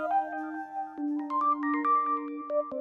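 A melodic electronic mobile phone ringtone plays alone, a sequence of bright tones repeating over a steady low hum, moderately loud and close, in an indoor home scene.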